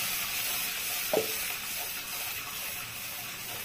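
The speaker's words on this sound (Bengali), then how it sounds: "এখন মশলাটাকে খুব নাড়তে হবে, যেহেতু কাজু আছে, নাহলে লেগে যাবে মশলাটা" Masala with cashews for dahi potol sizzling steadily in a pan while being stirred, a constant hiss with one brief scrape of the spoon.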